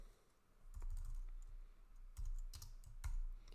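Quiet keystrokes on a computer keyboard, a few scattered clicks in short bursts against faint low background hum.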